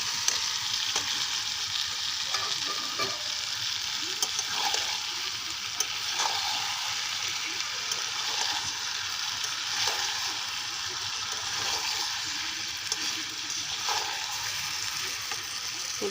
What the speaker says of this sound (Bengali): এখন আলু ভাজাটা দিয়ে দেব।